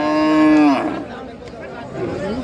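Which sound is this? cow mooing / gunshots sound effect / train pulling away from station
cow mooing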